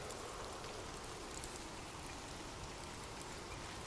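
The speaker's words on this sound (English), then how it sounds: "drift off to sleep with rain" Steady rainfall pattering on a surface, a dense, even hiss of many raindrops at low volume, continuous and unbroken with no voices, setting a calm sleepy ambience.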